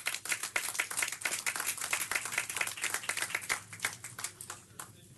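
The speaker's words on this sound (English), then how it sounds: "Let's just give them another big round of applause" Sustained applause fills a city council meeting chamber, many hands clapping in a dense, steady patter for several seconds before thinning out near the end; no one speaks over it.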